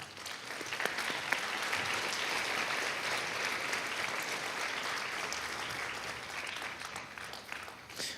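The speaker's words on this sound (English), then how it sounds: "we'll get a round of applause for these students" Sustained audience applause for student musicians at a school orchestra pop concert, loud and dense, with many hands clapping steadily for several seconds before tapering slightly at the end.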